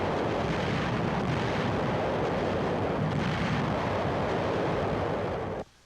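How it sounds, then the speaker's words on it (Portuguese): A World War II Pacific offensive with a naval gun and artillery barrage roars as a dense, continuous rumble of blasts that holds steady and then cuts off abruptly near the end. "Uma nova ofensiva é apoiada pelo fogo de canhões navais e é precedida por um dos mais fortes fogos de barragem da guerra"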